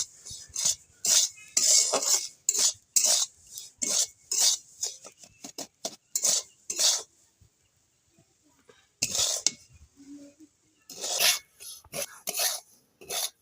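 Black salt being dry-roasted in a pan over low flame while a spoon stirs it, giving repeated bursts of scraping and clinking, some gaps of near silence between strokes.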